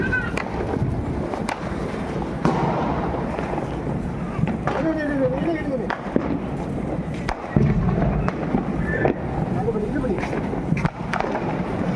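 Diwali firecrackers burst during a family celebration at home, with sharp cracks and pops at irregular intervals over continuous background noise and voices.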